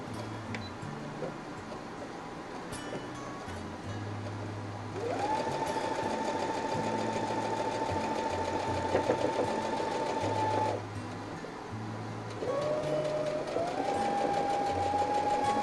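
A sewing machine stitching a quarter-inch seam on fabric squares for a shark quilt block, running in two long whirring bursts of rapid stitches, close and loud, with pauses between.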